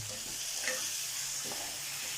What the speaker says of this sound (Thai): เอาไปล้างให้สะอาดแล้วก็เอาไปผัดนะครับ ผัดจนเละเลย